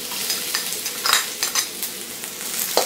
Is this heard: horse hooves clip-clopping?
no